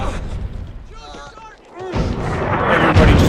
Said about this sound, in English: Take cover! It's German artillery! Oh, the Germans are shelling too.